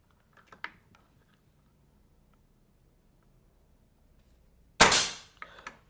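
One loud, close air gun shot from a Black Ant or CFX double plenum air rifle cracks out after a few soft clicks, followed by a short decaying tail and light rattling.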